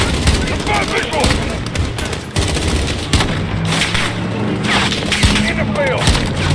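Rapid gunfire and a heavy explosion from a grenade in a realism-difficulty shooter video game embassy siege mission, dense bursts of shots crackling continuously with booms mixed in, loud and close, with voices shouting over the combat.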